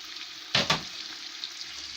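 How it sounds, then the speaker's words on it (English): Party fried rice with spices is stirred in a pot, a faint low sizzle interrupted by two brief, louder bursts of scraping and rustling, then quiet frying again. "I'll be mixing my rice inside the spices."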